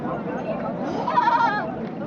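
A Pindiwal goat at a livestock market gives a short wavering bleat amid nearby chatter and market voices.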